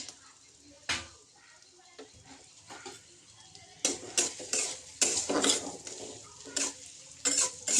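Chopped onion fries in white oil in a pan for homemade chilli chicken, a low sizzle under repeated clatter and scrapes of stirring utensils, growing busier toward the end.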